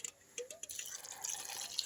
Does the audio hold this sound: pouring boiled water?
yes